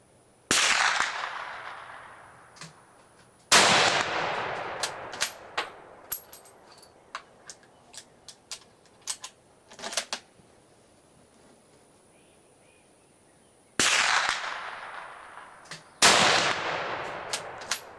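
A sniper rifle fires on a range: loud, sharp reports several seconds apart, with scattered metallic clicks and clanks in the quiet between shots.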